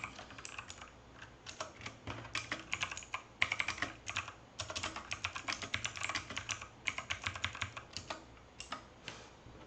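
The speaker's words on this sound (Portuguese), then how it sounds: "Eu mesmo vou digitar, Cisco." A computer keyboard is typed on steadily for about ten seconds, the rapid clicking keystrokes close and distinct with only brief gaps, during a live session solving bimonthly exams; no speech is heard.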